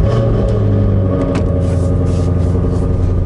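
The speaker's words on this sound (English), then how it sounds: "So I'm gonna go ahead and start it." A manual-transmission car engine turns over and settles into a loud, steady idle, a deep continuous rumble close up with a few brief higher clicks near the start.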